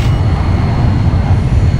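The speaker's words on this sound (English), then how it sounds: "Flying this jet is like crazy." A jet aircraft engine in the Battlefield Play4Free video game roars as a loud, steady, dense rumble that holds without a break for about two seconds.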